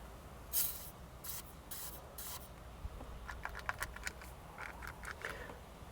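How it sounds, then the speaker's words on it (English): Several short hissing bursts from an aerosol can of silicone grease sprayed into a 2007 Volvo C70 ignition, with scattered small clicks and taps, close and fairly quiet. "I am going to just kind of spray down in there with some silicone grease"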